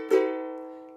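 A single strummed guitar chord rings out on a triplet stroke, a quick scraping attack that settles into a bright, sustained chord fading over about a second.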